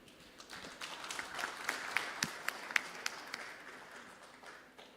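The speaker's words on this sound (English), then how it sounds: "Let's give our round of applause once again for our panel discussion number 2" Audience at a mining industry forum panel session giving a round of applause, a moderate crowd clapping with a few sharper claps standing out before it fades out.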